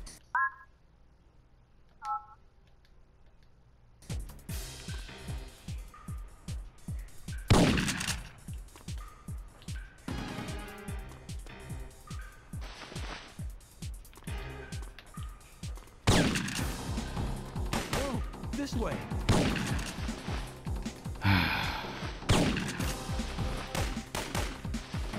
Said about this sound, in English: You got fucking guys with shotguns everywhere.